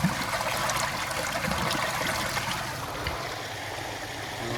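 Water gushes from a pipe into a cotton field and splashes in a continuous flow, a steady rushing hiss that holds at a fairly even level throughout.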